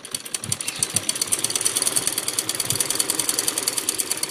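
A sewing machine stitches a gathered frill strip onto fabric with a fast, even mechanical chatter that holds steady and close throughout, with a few heavier thumps near the start.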